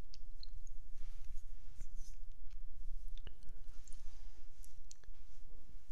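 Small, scattered clicks, crackles and soft tearing ticks come from a sticker being peeled off a Galaxy Nexus phone housing near the pogo pins, all close and quiet over a low background hum.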